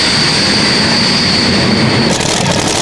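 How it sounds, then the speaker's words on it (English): Loud, steady roar of a heavily modified Dutch pulling tractor at an indoor European tractor pulling event in Rotterdam, a dense continuous engine blast with a high whine that drops away near the end. "Now here's another Dutch tractor, Lambada 3, which has also taken on smart new colours in the winter."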